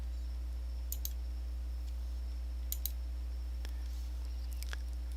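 Computer mouse clicks, a few faint, sharp paired clicks spaced out over quiet background hum.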